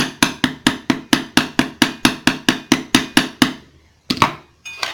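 Light, quick hammer taps rivet ball ends on an earring at a bench block, a steady close run of about fifteen metallic strikes that pauses, then two isolated knocks follow.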